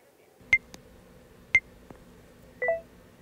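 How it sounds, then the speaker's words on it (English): A phone editing app's three-second countdown sounds as short electronic beeps, two matching tones about a second apart, then a longer final tone, close and clear over quiet background. "give yourself a 3-second countdown"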